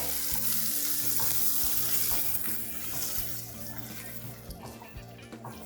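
Green onions hit garlic sautéing in a pan for paneer fried rice. A loud, steady sizzle and frying hiss runs throughout with scraping stirs, easing slightly toward the end.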